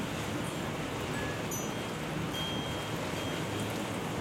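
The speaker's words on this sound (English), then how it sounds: "Rain." Steady rain falls during a rare desert thunderstorm with small hail in Henderson, Nevada, a constant dense hiss with no pauses and no voices.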